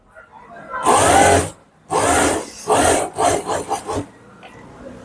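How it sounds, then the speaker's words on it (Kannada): A sewing machine runs up a fitting seam on a blouse, loud and close, with two longer stitching runs followed by a quick series of short bursts and a pause between. "ಸೊ ಈಗ ಇಲ್ಲಿಂದ ನಾನು ಸ್ಟಿಚ್ ಹಾಕೊಳ್ತೀನಿ"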